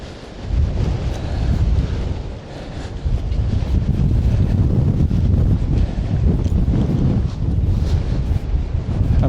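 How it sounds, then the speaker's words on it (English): Strong wind howls and buffets the microphone along an Icelandic shoreline as ocean waves break and surge, a continuous loud roar with no voices. "the wind is howling out to sea, and when the waves break, the wind captures the spray and sends it back out towards the ocean"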